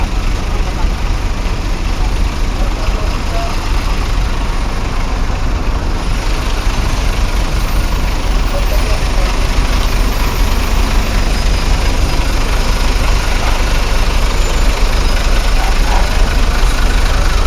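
A bus engine idles steadily and loudly throughout while a group of pilgrims wait to board for the trip to Mina, with a low, continuous rumble and no breaks.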